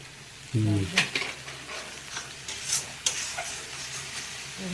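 Spices, chilies and dumur kofta masala are sautéed in a pan, a steady close sizzle broken by repeated stirring scrapes and clinks of a utensil against the pan.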